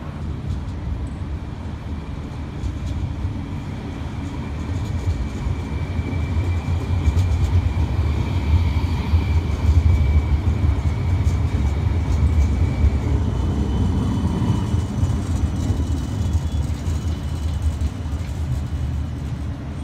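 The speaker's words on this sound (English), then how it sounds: "Arriving at Paddy's Markets, we have a Dulwich Hill service, serviced by Sydney's newest tram" Sydney tram 2124 on a Dulwich Hill service pulls into Paddy's Markets stop, a steady rumbling roll with a faint whine, moderately loud and continuous throughout with no voices.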